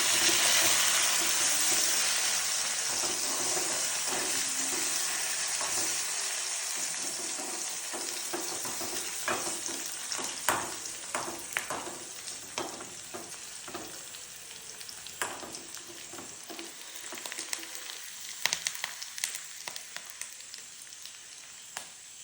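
Curry leaves and reddened onion fry in hot oil for a tempering, giving a steady close sizzle that eases over time, with scattered sharp pops and spatters and a few stirring scrapes toward the end.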